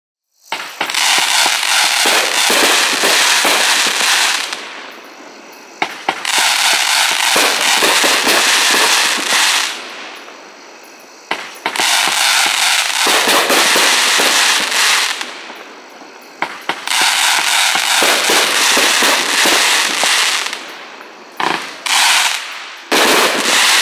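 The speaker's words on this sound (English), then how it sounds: "Item number 25 is Evil Jester, 500 grams from Fox Fireworks, packed 4 ones," A 500-gram, 25-shot fireworks cake fires in four long bursts of rapid crackling shots, loud and close, with brief pauses between volleys.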